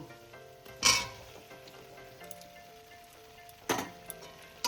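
Fried potatoes drop into a pan of masala with peas, giving two loud bursts of sizzle with clinks between them, the frying fading to a quiet hiss in the gaps.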